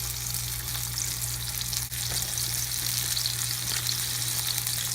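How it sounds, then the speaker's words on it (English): Battered orange chicken pieces deep-frying in hot oil, a loud, dense, continuous sizzle with a steady low hum underneath, unbroken and without speech. "I'm going to go ahead and drop these in the oil"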